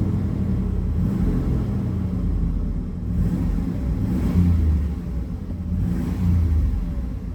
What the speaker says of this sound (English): let's give her some revs here